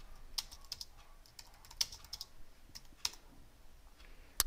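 A computer keyboard is typed on in a quiet room, irregular light key clicks in short bursts with a few sharper taps, ending in one louder keystroke.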